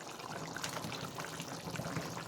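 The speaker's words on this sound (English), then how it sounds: "we're gonna add some more water into this, a little bit of water" Water poured into a pot of beef asado, a steady continuous splashing stream that runs evenly and moderately loud for the whole stretch, with no talking over it.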